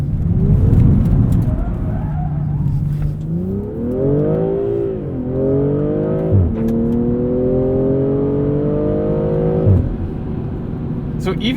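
A 2020 BMW M340i xDrive with all-wheel drive accelerates hard in first gear, its engine note sweeping up through several rising revs with shift breaks, loud and close, with a voice speaking over the start.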